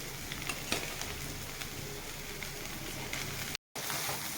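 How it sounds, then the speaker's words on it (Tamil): Cooked rice tipped into vegetables in a hot pan for white egg fried rice, giving a steady, dense sizzle with scraping stir noises throughout and a brief cut near the end. "இப்போ அந்த சாதத்தை போடுவோம்."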